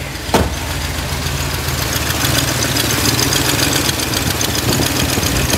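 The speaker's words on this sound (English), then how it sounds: "And we still have our little exhaust leak." A 1966 Ford Galaxie 7-litre engine idles loudly and steadily nearby, with a rough ticking, puffing exhaust rhythm from an exhaust leak running throughout.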